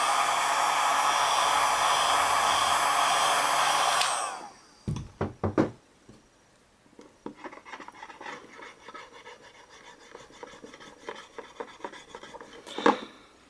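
A hair dryer or heat gun blows loud and steady for about four seconds while heating a Huawei Fusion U8652 phone screen, then shuts off, followed by soft rubbing, scraping and light knocks.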